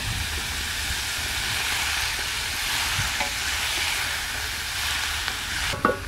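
Onions frying in a pan for a fish and vegetable curry, a loud, steady close sizzle with a soft scrape of stirring and a brief clink near the end.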